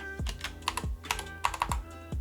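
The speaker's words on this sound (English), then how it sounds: "So now I want to type in tree and" Keys clack on a computer keyboard as a command is typed at a prompt, a close, irregular run of about ten crisp taps with short pauses between bursts.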